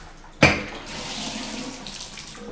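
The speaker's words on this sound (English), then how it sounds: "Shower works." Shower spray starts with a sharp onset, then runs as a steady, moderately close hiss of water in a home bathroom, alone without talk.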